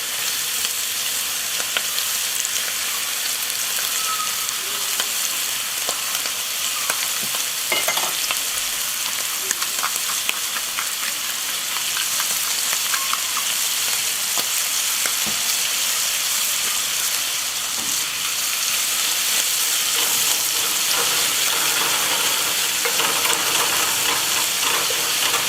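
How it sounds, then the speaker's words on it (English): Beef searing in a hot Dutch oven for stroganoff, a loud continuous sizzle and crackle of frying meat with occasional stirring scrapes, close and steady throughout, no voices. "Now what you want is just a little bit of sear on the outside."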